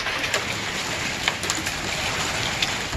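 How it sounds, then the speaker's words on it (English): Hail falls steadily outdoors, a dense, loud hiss of pelting ice with scattered sharper taps and knocks standing out from the continuous wash. "That's hail."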